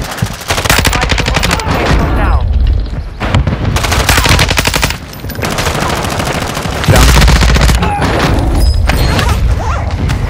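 Loud, dense gunfire in the Enlisted game on the Vondel map: sustained machine-gun bursts and rapid shots with booms and crashes, nearly continuous with only brief pauses.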